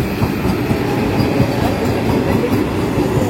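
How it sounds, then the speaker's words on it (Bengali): The Orange Vande Bharat Express runs on the rails with a loud, close, steady rumble, wheels clattering rhythmically over the track joints, with no voices. "এই যে দুটো পেন্টোগ্রাফে পুরো ট্রেনটা নিয়ে যাচ্ছে।"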